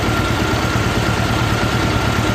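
A 1986 Honda Goldwing GL1200 motorcycle engine runs at a steady, loud idle close by, a continuous low rumble with no voices.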